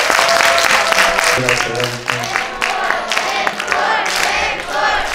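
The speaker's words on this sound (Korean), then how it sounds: "그런 가수가 될 수 있도록 여러분들 박수 한번 주시면 감사하겠습니다" An audience at a talk concert in Chungbuk claps and cheers for a singer, with a voice briefly audible over the dense, lively applause that carries through the whole moment.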